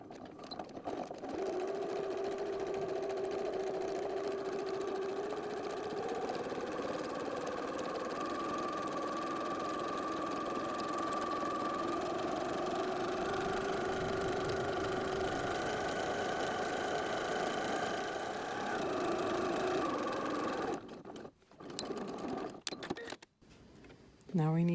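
Sewing machine topstitching around a fabric circle for a snack bag, a steady mechanical whir with rhythmic needle hum running for about twenty seconds, then stopping with a few clunks and handling sounds.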